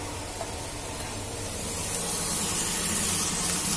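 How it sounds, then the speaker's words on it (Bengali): Water poured into a hot pan of spiced peas cooking on a gas stove gives a steady, close hiss and spray that swells louder over the last half. "মটরটাতে আমি একটুখানি জল দেবো"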